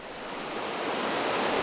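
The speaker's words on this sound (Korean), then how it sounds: "골짜기마다 물소리가 진동을 합니다." Stream water rushes through a mountain valley on Jirisan in Korea, a continuous broad roar that swells slightly louder toward the end, with no voices.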